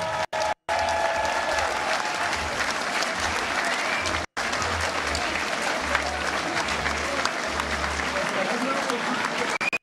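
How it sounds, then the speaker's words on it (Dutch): A crowd at a Dutch carnival event applauds loudly and continuously for about ten seconds, with a few brief dropouts and no clear speech over it. "Ik wil een geweldig applaus voor Edgar."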